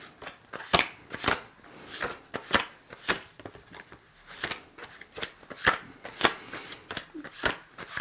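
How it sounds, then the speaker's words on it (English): A deck of tarot-style cards being shuffled by hand, with repeated crisp riffling bursts and soft slaps in an uneven rhythm, close and fairly quiet, with no talking. "So we're going to shuffle these now and put these 3 stacks out"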